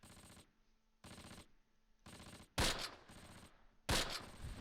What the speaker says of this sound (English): More shots coming out of the two-story in the south